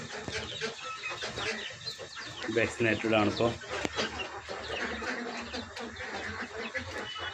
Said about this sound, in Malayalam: നല്ല ഒറിജിനൽ തനി നാടൻ അടയിരിക്കുന്ന കോഴികളാണ്